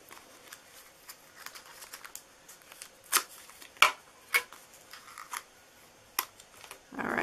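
Scissors snip through the top part of a paper Valentine mailbox treat box, a few sharp, close cuts scattered among quieter paper rustling, with a louder handling noise at the end.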